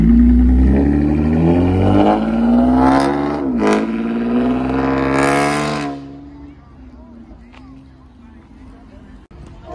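A straight-piped inline-four car at a car meet revs loudly up and down, its engine note climbing in strong sweeps before dropping to a quieter idle, close by with people talking over it.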